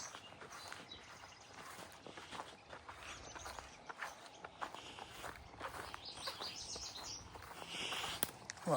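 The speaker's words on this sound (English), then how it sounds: "A lot of birds in the street." Birds chirp and sing outdoors along a grassland bird trail in the evening, with faint scattered calls over steady footsteps of someone walking the path.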